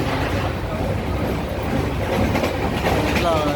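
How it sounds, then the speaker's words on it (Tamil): An express passenger train runs steadily with a continuous rattling clickety-clack and rumble, loud and close, and a faint wheel squeal near the end, heard from among people standing aboard. "ட்ரெயின் ஒரே சவுண்டு தொடர் தொடர்ந்து அடிச்சுட்டு வந்துக்கிருக்கு"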